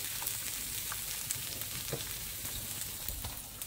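Dried shrimps and mushrooms fry in rendered pork fat for a Cantonese daikon savoury cake, giving a steady, close crackling sizzle with small pops scattered through, no voices over it.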